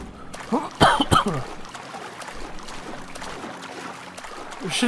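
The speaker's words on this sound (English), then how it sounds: "Shouldn't be coughing into my hand, I know that." A man coughs into his hand while playing Watch Dogs: Legion, giving two sharp, close coughs near the start before quieter background sounds, with a faint voice near the end.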